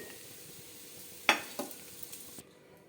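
Lentil dumplings (bori) go into hot mustard oil in a pan. A soft, quiet sizzle is broken by a few sharp clinks and splashes, loudest when the dumplings drop in.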